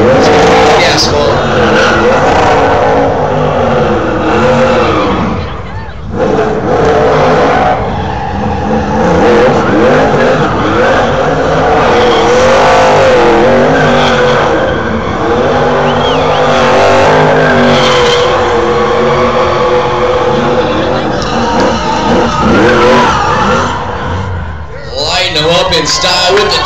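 A super late model race car circles Orange Show Speedway at a 2012 championship night, its engine roaring loud and steady with rising and falling revs and tire noise, under an announcer's continuous commentary and crowd ambience.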